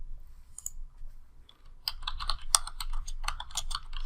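A short burst of quick, close keystrokes on a computer keyboard as an SQL query is typed, starting after a near-silent pause and continuing in a brisk uneven rhythm.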